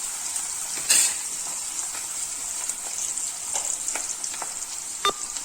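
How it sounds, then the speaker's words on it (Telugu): Onions, green chillies and curry leaves fry in a pan with a steady, close hiss and sizzle, broken by a few sharper crackles and light stirring sounds. "కొద్దిగా కరివేపాకు, ఇప్పుడు ఇది ఉల్లిపాయ వేగిందండి."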